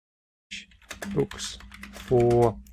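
Typing on a computer keyboard in a short burst of quick key clicks, heard close and fairly clear, with a few brief voiced sounds near the end.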